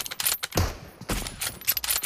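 Kar98K rifle fire in PUBG Mobile team deathmatch gameplay: several sharp, close gunshots crack in quick succession over a short burst of game noise.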